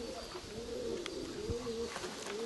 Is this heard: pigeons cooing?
yes